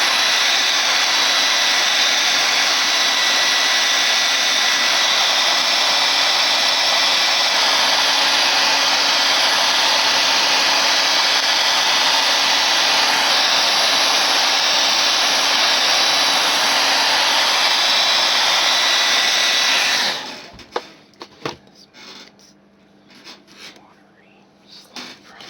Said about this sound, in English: Let's go ahead and use the blow dryer to kind of speed this along